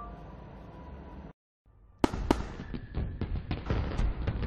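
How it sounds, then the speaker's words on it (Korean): Fireworks bursting over a night sky: after a brief hush, a sharp loud bang opens a rapid, irregular series of crackling explosions and pops, dense and close, with no voices. "다양한 색으로 밤하늘을 아름답게 수놓는 불꽃놀이"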